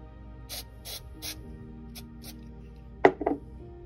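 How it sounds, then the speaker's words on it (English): Remington gun oil is sprayed onto a Glock 43 pistol in several short hissing bursts, close to the microphone, followed by a louder sharp mechanical click and rattle of the gun's parts. "I'm going to take the Remington gun oil or whatever penetrant flash lubricant you guys are using"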